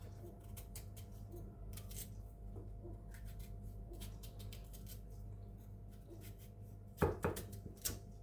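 A kitchen knife scrapes and cuts as a sweet potato is peeled, producing faint, irregular scraping strokes over a low background hum, with a few sharper knocks near the end.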